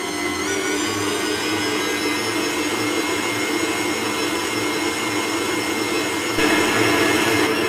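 A kneading machine slowly works brioche dough for a soft, stringy crumb, giving off a steady, continuous motor drone with a faint rhythmic churn underneath, loud and unbroken throughout, growing slightly louder near the end.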